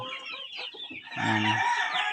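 Chickens cluck close by at a poultry farm, then a rooster lets out a loud, drawn-out crow.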